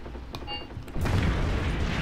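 Gunfire in the WWII tactical game Graviteam Tactics: Mius-Front, a low booming burst that jumps up sharply partway through and then holds as a loud, continuous rumble of fire.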